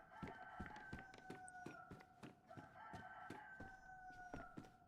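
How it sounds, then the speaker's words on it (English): A chicken in the video game DayZ crows in a drawn-out cock-a-doodle-doo, backed by a steady run of sharp clucks and rustling in a busy, continuous outdoor scene with no talking. "I hear a chicken."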